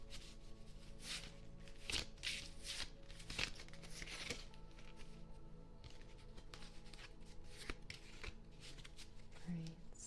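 A deck of tarot cards is shuffled close up, with repeated soft riffling and fluttering bursts of card against card, faint and steady throughout.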